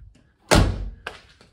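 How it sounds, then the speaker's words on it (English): The heavy door of a 1987 Jaguar XJS V12 shuts with one loud, deep, solid thud close by, followed by a couple of smaller latch clicks and settling knocks. "I love the door sound on these."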